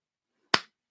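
A single sharp clap in an otherwise quiet moment, close and crisp with a quick decay.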